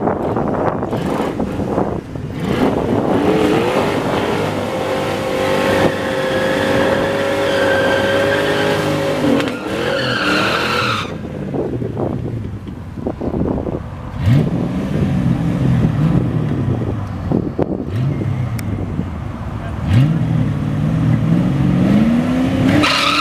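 A Fox body Mustang drag car makes a quarter-mile pass: a loud, close engine roars and climbs in pitch through several gear changes, with wind buffeting the microphone and no talking.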